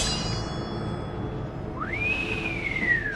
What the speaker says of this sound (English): That the Green Goblin whistles.